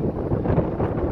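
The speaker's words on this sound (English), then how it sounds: "today it's windy" Strong wind buffets the microphone on an outdoor observation deck, a steady low roar with gusty swells, loud and close, no voices.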